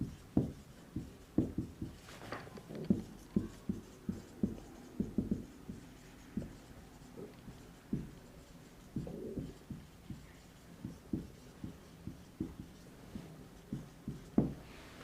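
Marker or chalk writing a definition on a classroom board, a steady series of short strokes and taps across the whole stretch, fairly close and alone, with faint bird coos in the background.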